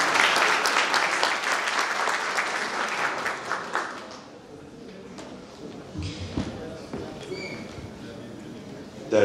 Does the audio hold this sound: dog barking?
no